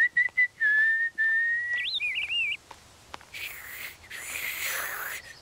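A person whistles to imitate and call to birds, holding a long steady tone that turns into quick warbling, bird-like trills. A brief breathy, hissy stretch follows, all close and fairly clear.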